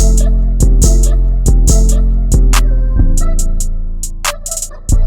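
A loud, heavy drum loop with booming bass and crisp hits, chopped into rapid repeated stutters toward the end.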